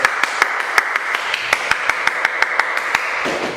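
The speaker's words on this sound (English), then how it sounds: "I was distracting him, clapping" Hand clapping used to distract a dog during place-command training, about a dozen sharp claps in an uneven rhythm, close and clear over a quiet room.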